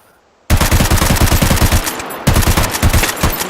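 A gun fires alternating tracer and armor-piercing rounds in rapid sustained bursts, loud and close, with a short pause before the fire resumes.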